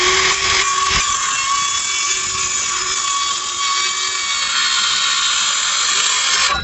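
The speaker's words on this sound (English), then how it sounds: "We'll take a circular saw with a curved out blade." Circular saw fitted with a curved blade cutting a meter socket shoulder, a loud continuous high whine and grinding held steady for several seconds, close up with no talking.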